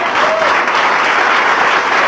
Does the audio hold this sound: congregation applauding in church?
yes